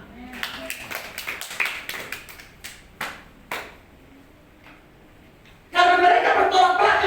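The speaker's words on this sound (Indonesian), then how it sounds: "Tepuk tangan." A church congregation claps hands during a sermon, a run of quick scattered claps in the first few seconds, then fading; later a burst of louder voices or music takes over.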